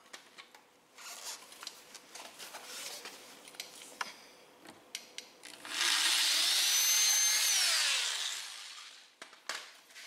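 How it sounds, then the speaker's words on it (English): Power drill boring out a mounting hole for a Mud Busters fender flare on a Polaris General 1000, several short bursts and then a steady, loud whine of about three seconds, with shorter bursts after it. "I'm going to go ahead and screw this or drill this one out."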